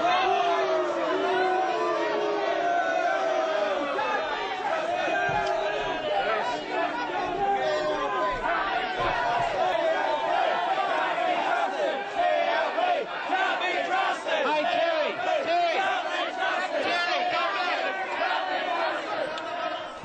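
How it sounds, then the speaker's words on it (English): A raucous crowd at a service cuts protest rally in Darwin boos and shouts on the steps of Parliament. A thick wall of many voices keeps going, loud and close, and never lets up. "The raucous crowd booing the Chief Minister."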